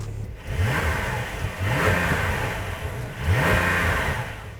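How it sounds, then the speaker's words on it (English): A supercar engine, an Audi R8 V10 or Mercedes-AMG GT C, is blipped in three separate revs that rise and fall at regular intervals, loud and close with a low idle between them. "Let's give it a little bit of revs."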